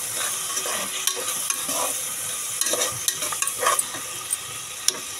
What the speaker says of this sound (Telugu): ఆనియన్స్ అయితే ఫ్రై అయిపోయాయి టమాటో యాడ్ చేసుకున్నాం